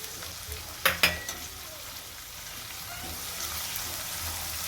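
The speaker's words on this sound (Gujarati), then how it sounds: "થોડી વાર સતરાવા દઈશું આદુ મરચાં લસણને." Ginger, green chilli and garlic sauté in hot oil in a pan, a soft steady sizzle near the mic with a couple of brief clanks of a spoon early on.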